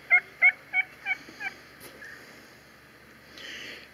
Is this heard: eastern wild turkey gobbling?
yes